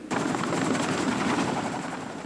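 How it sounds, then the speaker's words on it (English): An Army National Guard military helicopter flies overhead, its rotor producing a steady, loud, rapid chopping thud that fills the whole moment without any voices. "Military helicopters will take up the slack for mail trucks"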